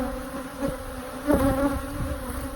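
A dense, loud swarm of honeybees drones around a hive up close, the buzzing swelling and intensifying in waves with individual bees whining past.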